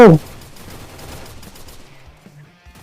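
Gunfire in the video game Free Fire: a sharp, loud shot or burst at the start, then a low fading tail with faint game noise.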